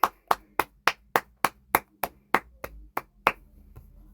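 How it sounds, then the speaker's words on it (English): Slow, evenly spaced claps, roughly a dozen sharp single hand claps in a steady rhythm, close and dry with silence between them, tapering off near the end. "Round of applause"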